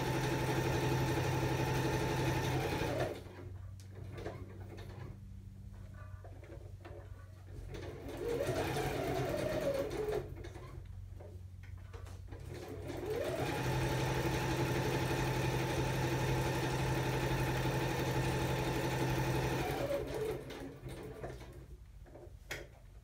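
Sewing machine stitching fabric pockets for a prayer journal, a steady mechanical whirring hum that runs in long stretches and stops for pauses between seams, close up, with faint handling noise in the gaps.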